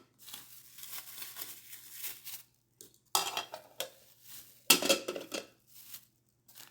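Free spoons from a Temu parcel being handled, with light clinks and rustles coming in short bursts, a louder cluster near the middle and another toward the end, fairly close.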